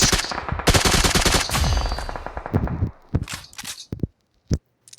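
SCAR-L assault rifle fired in a video game: rapid sustained automatic bursts at close range, then thinning to scattered single shots and short clicks.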